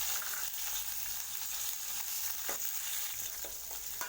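Green chillies, cumin and asafoetida crackling in hot oil for chickpea sundal, a soft continuous sizzle with a few faint spoon taps, quiet and without voices.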